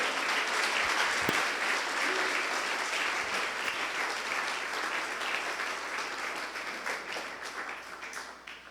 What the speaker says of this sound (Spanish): Si le va a dar un aplauso al Señor, déselo fuerte.